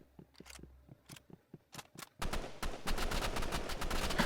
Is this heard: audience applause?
no